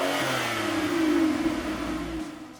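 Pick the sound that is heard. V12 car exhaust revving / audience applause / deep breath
V12 car exhaust revving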